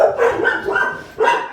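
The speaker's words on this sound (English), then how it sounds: "Dogs in the background barking." Dogs bark in a few loud, close yapping bursts, with a short pause before the last bark.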